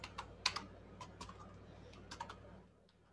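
Rapid typing on a worn computer keyboard during a coding session, sharp irregular key clicks in short bursts with brief pauses, close and fairly quiet, fading out near the end with no talking.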